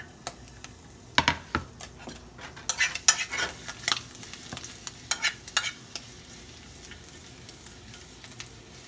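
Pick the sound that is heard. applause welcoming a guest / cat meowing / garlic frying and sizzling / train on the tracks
garlic frying and sizzling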